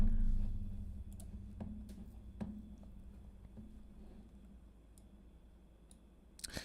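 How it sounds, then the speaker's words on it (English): A loud computer keyboard clicks in scattered keystrokes on a desk close to the microphone, with a soft thump at the start and a low hum under the sparse taps. "My keyboard's loud."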